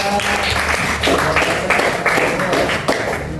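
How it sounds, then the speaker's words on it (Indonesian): Audience applause for a student presentation group during a teacher-training classroom session in Jakarta, a moderate steady patter of clapping lasting a few seconds with some talk-like sound mixed in. "tepuk tangan dulu buat kelompok 3"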